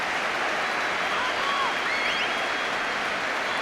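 A stadium crowd at a Stoke City versus Liverpool football match applauds and chants, making a dense, continuous roar with faint whistles rising through it.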